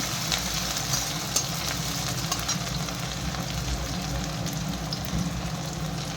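Potatoes frying in a pan for ghugni give off a steady, even sizzle with faint crackles, holding at a constant moderate level throughout with no voices.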